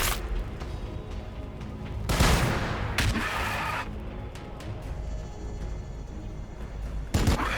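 A grenade volley in Warhammer 40,000: Battlesector erupts as a series of loud, booming blasts. Heavy bursts hit around two, three and seven seconds, with rumbling aftershocks between them.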